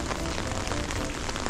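Rain falls steadily on a street in Kumamoto, an even, dense hiss of drops on wet surfaces, constant and fairly close, with no voices.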